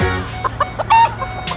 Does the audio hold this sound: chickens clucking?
yes